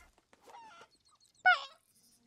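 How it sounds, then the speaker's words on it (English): Chickens in the pirate game Sea of Thieves give off a few short, nasal clucks and squawks, one brief burst near the start and a louder sharp squawk midway, with near-silence between them. "I hear chickens."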